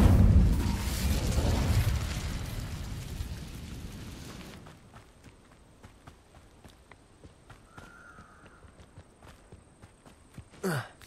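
An Incendio fire spell is cast in a Hogwarts video game, a loud roaring whoosh of flame that fades over a few seconds into quiet footsteps and faint ambience.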